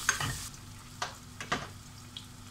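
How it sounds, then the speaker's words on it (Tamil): Mint, coriander and green chillies are sautéed in a pan for a kodo millet biryani, with a soft sizzle under several distinct scraping stirs of the spoon, fairly close and quiet. "இப்போது எடுத்து வச்சுருக்கிற இந்த புதினா கொத்தமல்லியை போட்டுக்கலாம், பச்சை மிளகாவையும் போட்டுடுறேன். இதை நல்லா வதக்கி விட்டுக்கலாம்."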